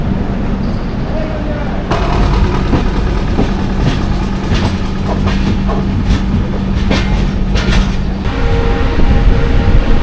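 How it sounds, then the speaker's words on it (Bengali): The 12152 Samarsata Express pulls into Santragachi station with a loud, rumbling rattle of wheels and carriages, a steady low hum, and sharp clanks and clatters as it rolls in. "সাঁতরাগাছিতে ট্রেন ঢুকে গেল।"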